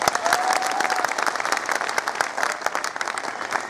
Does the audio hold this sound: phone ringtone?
no